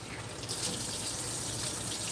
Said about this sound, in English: Make sure you clean your sink out good.